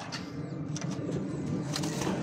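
A racing pigeon coos softly in a loft over a steady hiss of background noise, its low murmuring calls repeating in short bursts.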